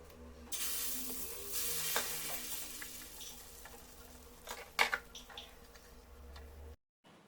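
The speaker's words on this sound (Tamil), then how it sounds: "இந்த மாதிரி நல்லா மெல்லிசாக தோசையை ஊற்றிட்டு ஒரு 3 நிமிஷத்துக்கு மூடி போட்டு வேக வச்சுக்கோங்க" Thin dosa batter sizzles on a hot dosa tawa with a steady crackling hiss, broken by a few sharp clinks of utensils before the sound cuts out.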